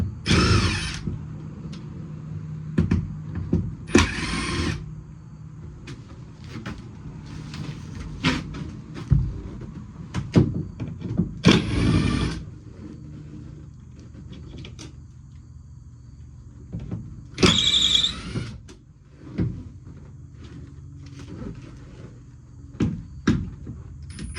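Screws are removed from the interior of a U-Haul CT-13 camper during restoration, with short bursts of tool whirring, clunks and knocks separated by quiet pauses, close by and with no talking.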